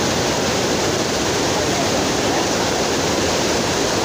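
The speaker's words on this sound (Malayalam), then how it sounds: "പോകുന്ന വഴിയിൽ തന്നെ ചെറിയ വാട്ടർഫാൾസ് ആണ്." Small waterfalls at Thusharagiri roar in a dense, constant rush of falling water, loud and close, with no other sounds.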